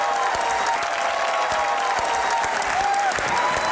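Steady, dense applause from a studio audience at a Pakistani comedy talk show, a continuous wash of clapping filling the whole stretch at an even, fairly loud level with a faint tonal line briefly riding over it.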